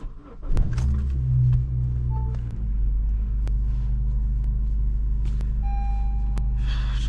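A stock car engine cold starts close by, with a sharp crank and catch, a brief high revving flare, then settling into a steady low idle rumble with a few faint clicks and small beeps, and no talk.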